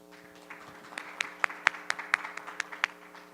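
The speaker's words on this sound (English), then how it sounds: "let's give a round of applause to Gabriel" Sparse, scattered hand claps from a conference audience after a talk, a handful of sharp individual claps rising and then thinning out over a steady electrical hum in the room.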